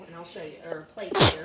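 A short, sharp sneeze erupts near the end at a Thanksgiving table setting workshop, loud and brief after someone speaking.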